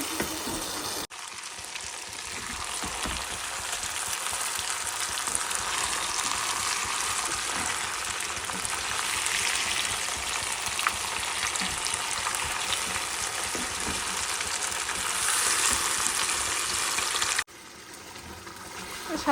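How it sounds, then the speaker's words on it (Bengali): Spice masala fries and gets stirred in a pan before chicken is added, a loud, unbroken sizzling hiss that runs for most of the stretch with a faint scrape of stirring, then cuts off abruptly near the end. "মশলাটা একটু কষিয়ে নিচ্ছি ভালো করে"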